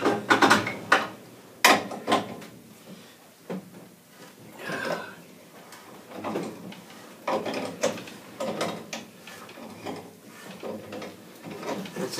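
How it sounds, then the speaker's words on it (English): A pipe wrench works on a gas valve in a series of creaks, clicks and metallic scrapes, irregular bursts of grinding and ratcheting with brief pauses, close up and moderately loud. "pipe wrench on that. Alright, we get ready to crack it a little bit."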